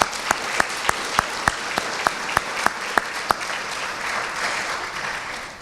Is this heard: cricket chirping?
no